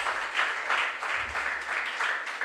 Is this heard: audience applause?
yes